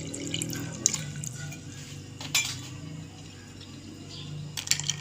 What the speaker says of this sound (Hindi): और इसके अंदर डालेंगे हम पानी।